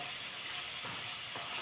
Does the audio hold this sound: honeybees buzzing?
no